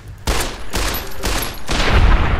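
Rifle gunfire in Fallout: New Vegas, several loud bursts of shots in quick succession with brief gaps, each blast broad and forceful, continuing almost without pause to the end.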